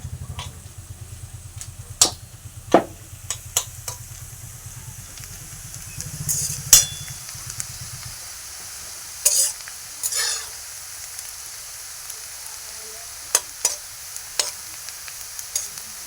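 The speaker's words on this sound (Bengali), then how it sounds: "ভেজে লাল লাল কালার করে" Onions frying in oil until reddish-brown for chicken biryani, a steady low sizzle with scattered sharp clicks of stirring for the first half, then sparse stirring knocks and utensil taps over quieter frying.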